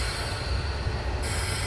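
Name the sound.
AI train passing in the video game Train Simulator 2015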